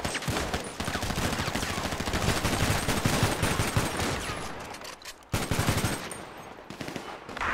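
Dense, sustained automatic gunfire from a GTA 5 Grand RP family raid, rapid bursts overlapping loudly with no break except a brief dip near the end before firing resumes.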